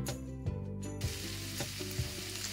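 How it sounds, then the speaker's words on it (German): Cubes of Leberkäse and chopped leek fry in hot oil in a pan, giving a steady close sizzle with a few soft stirring knocks recurring through the short stretch. "Darin wird nun unser Leberkäse und der Porree schön angebraten."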